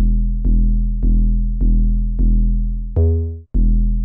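A Meds sub 808 bass pattern in a hip-hop beat, with six punchy low booming notes in an even rhythm. One longer note bends in pitch before a short gap, and the last hit follows.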